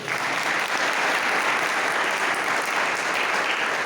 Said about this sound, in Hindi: ताली मारना आपका पेशेंस के लिए।